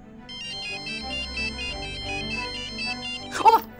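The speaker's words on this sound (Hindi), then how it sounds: "सिद्धार्थ फोन नहीं उठा रहा यार" A telephone ringtone repeats its electronic pattern steadily for several seconds while it goes unanswered, with a sharper burst near the end and faint background sound underneath.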